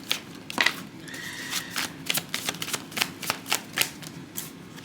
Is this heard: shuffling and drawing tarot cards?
yes